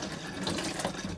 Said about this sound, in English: we need to get that water through the system on all of our taps